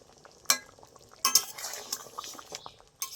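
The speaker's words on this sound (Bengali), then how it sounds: "এখন একটু মাঝে মাঝে নেড়ে দিতে হবে নাহলে কিন্তু তলায় লেগে যাবে" A spoon stirs a pot of dal cooked with garden-grown taro, giving soft scraping and scattered metallic clinks against the pot in short irregular strokes, close and fairly quiet, with no voices.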